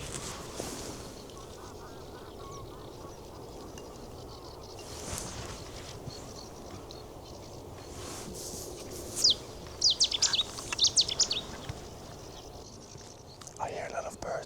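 Wild birds in Dutch wetlands at sunrise call faintly in the distance, with a few short chirping bursts and possible duck-like quacks over a low steady ambient hiss.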